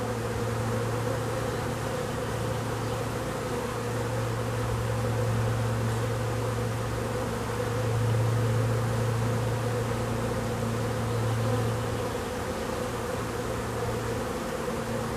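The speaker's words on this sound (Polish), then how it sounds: "Także szczółki raczej gromadnie wchodzą do tego ula" A swarm of honey bees pouring into a hive, a loud steady droning buzz of many insects that holds unbroken throughout, swelling slightly midway.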